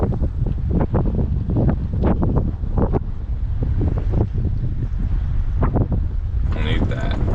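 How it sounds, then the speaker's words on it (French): A strong 20-knot wind gusts over the river at Gros Cacouna, buffeting the microphone in loud, uneven rumbling bursts while a person talks intermittently over it. "Et là, il y a 20 nœuds de vent."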